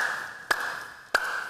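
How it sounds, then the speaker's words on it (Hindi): Two loud, sharp hand claps ring out on a TV show set about half a second apart, each a crisp slap over a steady sustained tone. "जोर जोर से साले ताली पीट रहे जैसे साले मच्छर मार रहे हो"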